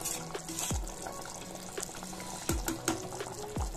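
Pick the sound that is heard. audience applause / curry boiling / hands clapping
curry boiling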